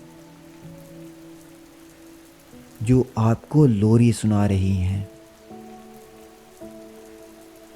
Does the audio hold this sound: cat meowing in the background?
no